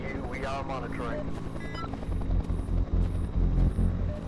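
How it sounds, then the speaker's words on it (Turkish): A helicopter flies in the video game They Are Here, a low, steady, pulsing rotor drone that builds up in the second half, with a voice talking over it at first. "Helikopteri takip edelim arkadaşlar."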